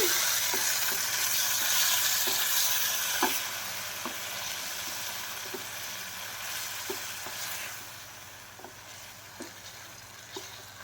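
Soy and chili sauces stirred through a sizzling pan for potato rice, a steady loud frying hiss under a repeated rhythmic scrape and clack of the spoon against the pan, fading slightly toward the end.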